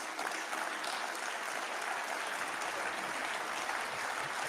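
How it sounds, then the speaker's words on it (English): Members of the European Parliament clap during a State of the Union address, a sustained wash of applause from a large chamber, distant and fairly faint. "The Greens are clapping here."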